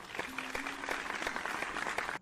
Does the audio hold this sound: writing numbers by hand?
no